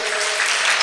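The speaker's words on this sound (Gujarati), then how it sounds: "જોરદાર એકવાર તાળીઓથી વધાવીએ" An audience at a Kathak dance award ceremony bursts into brief, dense clapping, close and loud.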